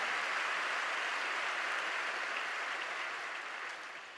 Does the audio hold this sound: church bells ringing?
no